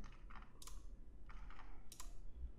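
A few sharp, light clicks in small clusters, spaced apart over a low steady hum, like a mouse button being pressed close by.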